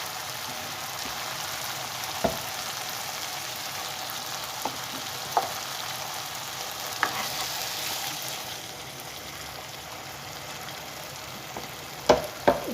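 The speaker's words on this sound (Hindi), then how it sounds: "अब मैं इसमें ये दोनों चीज़ें डाल के इसे भी भूनना है मुझे।" Ground tomato with ginger-garlic paste fries in a pan for a fish curry, a steady soft sizzle and crackle running throughout, with a few sharp spoon clicks and stirring knocks, the loudest near the end.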